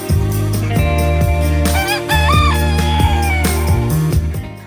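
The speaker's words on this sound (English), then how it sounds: "I personally love to hear the sound of a rooster crowing." A rooster crows loudly and close by, one long rising-and-falling call over steady clucking and a continuous hum from other chickens in a backyard flock.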